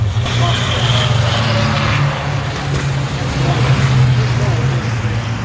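Racing trucks at Brands Hatch rumble past with a loud, steady low engine drone and broad road roar, continuous and close for several seconds.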